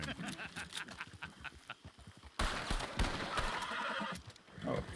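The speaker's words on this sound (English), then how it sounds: "Oh, that's my horse." A horse neighs and whinnies in a Western role-play video game, with hoof clip-clops and a sudden louder burst of commotion midway, the mix busy and close.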